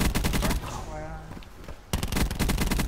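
Rapid automatic gunfire in Call of Duty: Blackout zombies mode, loud bursts of close shots at the start and the end with a brief lull and a voice in between.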